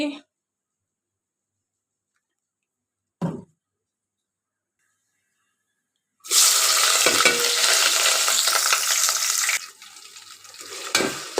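Spices hit hot oil for beef bhuna: after near silence and a couple of faint knocks, a loud, hissing burst of frying starts suddenly and holds for a few seconds, then drops to a quieter sizzle.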